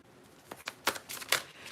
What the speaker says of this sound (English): All right, so now let's pull some more cards.